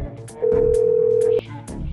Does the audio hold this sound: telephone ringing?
yes